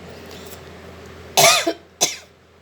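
Two sharp coughs from a woman who has been speaking, the first longer and harsher, the second shorter, close and loud over a quiet room.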